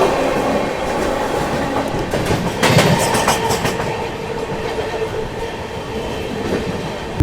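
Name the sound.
Howrah Rajdhani Express train running on rails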